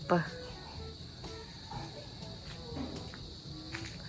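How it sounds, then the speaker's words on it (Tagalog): Continuous high-pitched chirping of crickets in the evening in a garden fills the background, steady and faint, with a brief sound at the start and occasional soft noises. "naririnig ang mga kuliglig"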